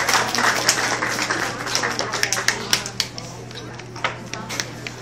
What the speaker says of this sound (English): Let's give them another one big round of applause for all their effort.